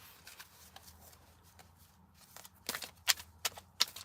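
Tarot cards are shuffled in a few quick, soft riffling bursts near the end, each a brief crisp flutter over a quiet room, with no talking.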